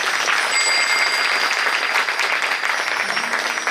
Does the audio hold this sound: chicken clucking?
no